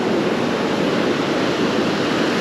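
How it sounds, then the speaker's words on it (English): Ocean waves break on a sandbar at a fishing beach, making a steady, loud roar of surf and wind with no clear breaks. "there's an obvious sandbar that the waves are breaking on"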